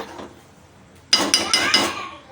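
Ghee is mixed into dal khichdi in a pot: after a quiet start, a spoon clinks and scrapes against the pot in four or five loud, rhythmic strokes.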